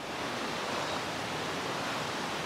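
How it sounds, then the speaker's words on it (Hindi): The Neer waterfall near Rishikesh roars loudly and continuously, a dense, even rush of falling water close by with no break or voice over it. "ये देखिए कितनी तेज झरने की आवाज आ रही है"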